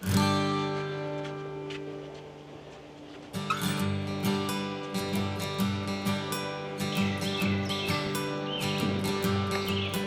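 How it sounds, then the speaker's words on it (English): Sharp, repeated calls of a pair of red-shouldered hawks flying overhead ring out in a rapid series over a steady tonal hum, fairly close, on a wild river in Palm Beach. "we just had a couple of red-shouldered hawks cruise right over us"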